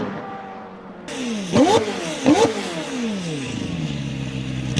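A voice imitates the roaring engine of a McLaren Senna supercar by mouth, with two sharp rising revs close up, followed by a lower sustained rumble.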